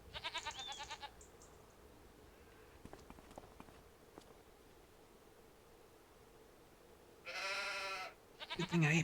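Goats in a barn in Farming Simulator 25 give a short bleat at the start, then after a quiet stretch with faint clicks, two more bleats come near the end, fairly close.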